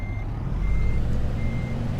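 A Kenworth W900 in American Truck Simulator backs up with its reversing alarm, a thin high beep repeating at a slow even pace over a deep, steady diesel idle rumble, with no talking.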